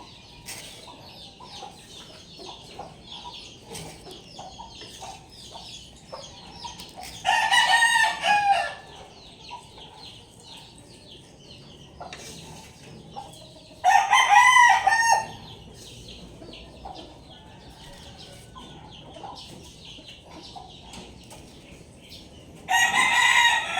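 Chickens cluck and a rooster crows at feeding time on a backyard farm, with three loud crowing bursts standing out over steady, busy background clucking.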